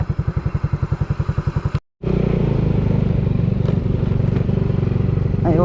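Dirt bike motorcycles ride away on a trail, a loud rhythmic engine putter that cuts out abruptly, then a steady revving drone continues as they move off.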